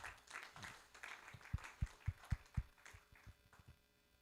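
Scattered hand claps from participants in an online room after a geometry and topology talk, a faint, sparse run of a dozen or so sharp claps over a low background hum.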